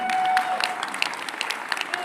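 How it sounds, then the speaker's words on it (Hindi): Loud applause from an audience at a Ramayana film teaser event, a steady wash of clapping with a few sharper claps standing out, close and continuous. "एक बार जोरदार तालियां हो जाए।"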